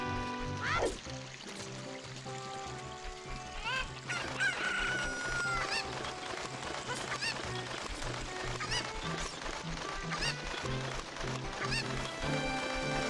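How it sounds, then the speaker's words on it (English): A rooster crows and a chicken clucks in The Legend of Zelda: Ocarina of Time. The bird calls repeat loudly over a dense bed of game music and effects that runs through the whole stretch. "I'm going to assume that there is a chicken up there as well."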